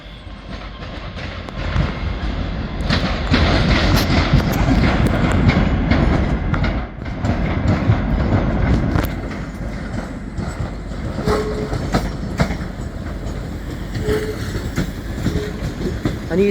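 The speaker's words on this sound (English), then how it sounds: "I saw a BR diesel today. Class 47." A British Rail Class 47 diesel locomotive passes close by at a busy Waverley station, its loud engine rumble steady throughout with clattering wheels and rail noise joining as the carriages roll past.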